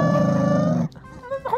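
Rescued stray dog growling low and steady for under a second, then a short pause and a softer rumble; close and fairly loud, with no talk.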